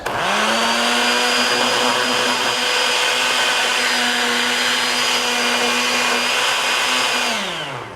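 A blender making tomatillo salsa runs at a steady high whine for several seconds, loud and close, then winds down at the end.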